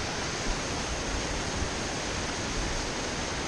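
Mountain stream water rushing steadily over rocks, a loud, close, unbroken wash of noise with no voices.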